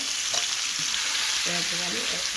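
Chopped vegetables frying in hot oil for egg kothu give a loud, steady close sizzle throughout, with faint speech murmuring underneath.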